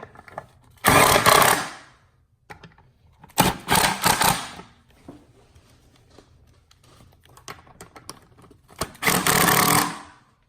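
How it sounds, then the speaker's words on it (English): A 10mm socket tightens nuts on a Fiat 500 Abarth during a turbo blanket install, heard as three separate bursts of rapid metallic ratcheting clicks, each about a second long, with quiet pauses between them. "now let's go ahead and tighten these down with that 10mm socket"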